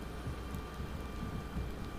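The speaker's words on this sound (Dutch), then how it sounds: "Nu regent het" Rain falls in the video game Hogwarts Legacy as a soft, continuous hiss with a low rumble beneath, steady and even throughout.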